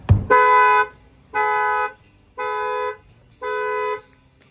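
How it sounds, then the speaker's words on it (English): Factory alarm on a 2023 Dodge Challenger, triggered by its shock sensor after the tire is struck: four long, steady horn honks of equal length, evenly spaced and loud, following a brief thump at the start. "as soon as you hit the tire, it's going to set off the alarm"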